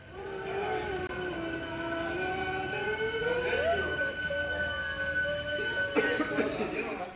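A Toulouse metro train rumbles along steadily while high-pitched motor whines and squealing tones rise and fall, with a sharp clatter near the end.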